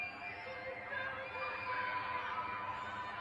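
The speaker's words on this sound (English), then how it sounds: "所有人都在叫" Many people shouting and screaming from apartment balconies during a lockdown, a sustained loud crowd din with overlapping voices and no pauses.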